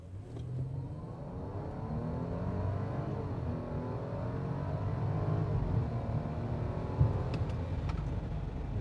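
A 2017 Audi Q7 accelerates, a smooth, steady engine drone heard from inside the cabin, rising gently in pitch with a faint click near the end.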